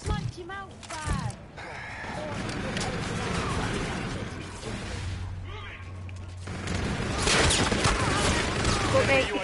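Gunfire crackles in the shooter video game Call of Duty: Infinite Warfare in a hardcore match, with scattered shots and mechanical clatter in a busy mix. Players talk over it.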